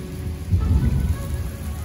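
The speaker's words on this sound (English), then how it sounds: "Absolutely pouring." Heavy rain pours down in a loud, steady wash, with a deep thunder rumble swelling midway. No one speaks.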